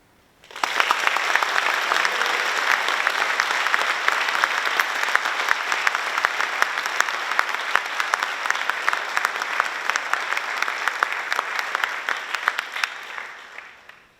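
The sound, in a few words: audience applause at awards night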